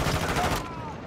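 Gunfire in Call of Duty MW2 gameplay, a loud burst of overlapping rapid shots with heavy low rumble that cuts off partway and tails into quieter game noise.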